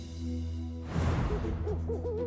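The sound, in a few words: owl hooting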